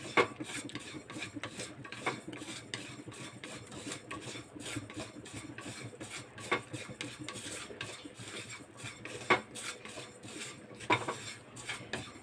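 Sesame seeds and lentils are dry-roasted and stirred in a pan, giving a continuous, fairly quiet scraping and rasping with irregular louder scrapes and clinks. No one speaks.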